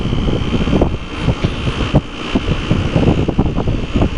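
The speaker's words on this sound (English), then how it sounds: "That compressor is definitely a little bit more angry than this one is." A Gibson air conditioner compressor runs loudly and harshly close by, a constant droning hum with rough pulsing and occasional thumps, no voices over it.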